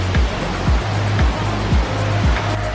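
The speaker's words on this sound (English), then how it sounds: "You started to see more and more of the waterfall." Steady roar of a waterfall in a forested gorge on a trail in Bavaria, a continuous near wash of rushing water filling the whole clip with no voices.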